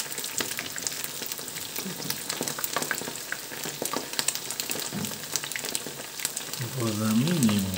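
Breaded onion rings fry in a pan with a constant crackling sizzle and occasional stirring clatter, close and moderately loud, and a brief low voice near the end.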